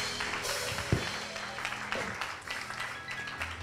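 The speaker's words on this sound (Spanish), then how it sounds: "denle un aplauso" A church congregation claps together in a short, faint burst of applause, with the scattered claps blending into a soft, continuous patter.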